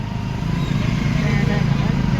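Motorcycles climbing the steep mountain road toward Naina Devi give off a steady, close engine drone with no break through the short stretch.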